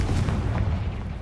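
A Confringo fire spell blast in the video game Hogwarts Legacy, one dense, loud, rumbling boom that fills the whole short moment at close range, with no talk over it.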